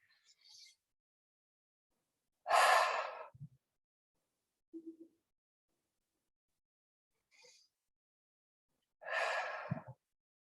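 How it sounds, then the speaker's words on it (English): Deep breathing during a guided breathing exercise: two long, close exhalations like heavy sighs, with softer breaths and short quiet gaps between them. "So go ahead and take a couple deep breaths."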